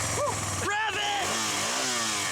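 A motorcycle engine revs and rises in pitch, loud and close, with excited voices talking and shouting over it.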